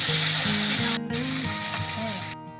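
Onion, ginger and green chili paste hits hot oil in a pan and sizzles loudly up close, a dense frying hiss that dips briefly partway through, with faint clinks beneath and no talk.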